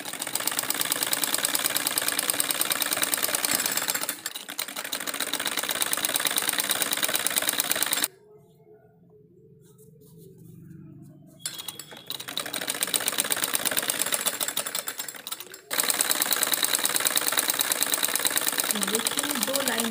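A sewing machine stitches salwar fabric in long, loud, steady runs, pausing for a few seconds in the middle before resuming; someone talks over parts of the stitching.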